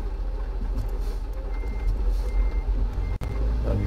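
A truck's reversing alarm beeps repeatedly while it parks at a hotel lot, steady rhythmic beeps over a loud low engine rumble, no talking.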